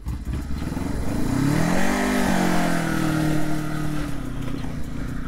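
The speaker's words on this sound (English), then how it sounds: "Quite a revvy little bike." A 1984 Honda CB125T Twin motorcycle revs hard while being ridden, its small twin engine climbing in pitch to a high buzzing peak, then holding a steady drone, loud and close with no talk.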